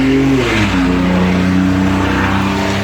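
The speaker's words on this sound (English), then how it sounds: "I just can't believe how loud vehicles are anymore." A loud car engine roars close by, its pitch sliding down as the vehicle passes and fades into a steady rumble.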